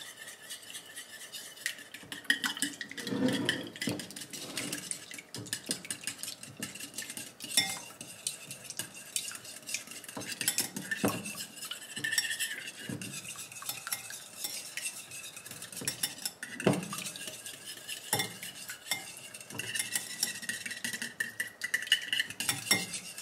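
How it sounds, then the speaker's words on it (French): Food being stirred in a pan with olive oil, busy scraping and clinking of a utensil against the pan, with faint sizzling underneath and no one talking. "un petit peu d'huile d'olive. C'est ok. Je mélange."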